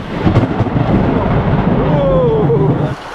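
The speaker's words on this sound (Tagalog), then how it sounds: "inabutan tayo ng malakas na ulan. May kasamang malakas na kulog at kidlat." Loud, dense rain roar with a deep rumble of thunder rolling underneath, fading briefly at the end.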